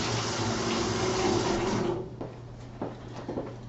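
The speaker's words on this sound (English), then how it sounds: "we're going to put the can in some hot water to get it softened up a little bit" A Mr. Beer can is lowered into hot water, a splashing, sloshing water sound for about two seconds, followed by a few faint clunks and handling noises in a quiet kitchen.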